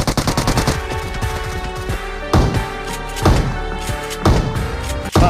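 Rapid automatic gunfire from the PUBG video game, dense bursts of repeated shots with heavy thuds and crashes over a continuous music-like background, loud and sustained throughout.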